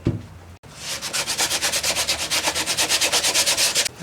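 Sanding on the broken nose of a surfboard, a steady run of quick back-and-forth strokes, close and loud, each stroke a rasping scrape that repeats in an even rhythm after a brief pause at the start.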